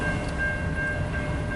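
A CN westbound priority manifest freight train passes at night, producing a steady, continuous rolling rumble with a thin sustained tone riding above it and no break.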